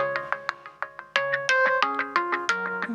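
A mobile phone ringtone plays a bright, plucked melodic loop of quick notes in an irregular rhythm, clean and alone without speech.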